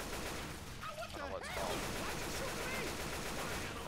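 Gunfire from a Left 4 Dead 2 zombie-shooter mod, a dense steady rattle of shots running throughout under a busy game mix, with short zombie-like cries or voices rising briefly in the middle.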